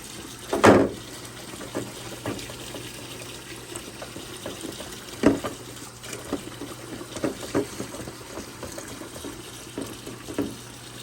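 Tap water runs quietly while a painted RC car body is rinsed with Dawn dish soap, with a faint steady trickle and a few splashy bursts close by.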